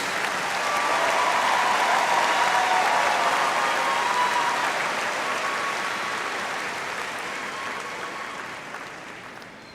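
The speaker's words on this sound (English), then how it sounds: "Please join me in extending another round of applause for our doctoral graduates" A large audience at a graduation ceremony applauds doctoral graduates, a dense, sustained wash of clapping that swells early and then slowly fades.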